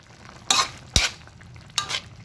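Round-sliced onions dropped into a hot pan for a hot dog dish: three bursts of close, loud sizzling and scraping, separated by short quiet gaps.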